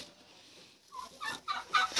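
Turkey hens in a farmyard give a few short gobbling and clucking calls, building from faint to louder bursts over about two seconds, with no talking.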